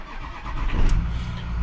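A Ford 6.0L Powerstroke diesel truck engine, checked for a turbo underboost fault, starts up and settles into a loud, rough, steady rumble nearby, alone without talk.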